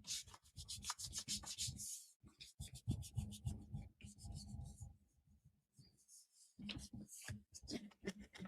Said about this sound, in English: let me get this rubbed down just a little bit